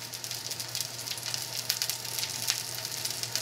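Impossible Burger patties frying in a pan, a steady close sizzle with fine crackles and occasional sharper pops throughout.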